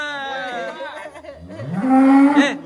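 A giant contest cow on a livestock weighing scale lets out a loud, close moo that rises and swells, with background voices faintly present.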